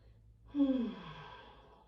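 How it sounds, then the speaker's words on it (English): One slow, deep exhale during a yoga child's pose, soft and close, rising from near silence and fading away. "Let's take a few rounds of breath here. Nice deep inhales. Nice full exhales."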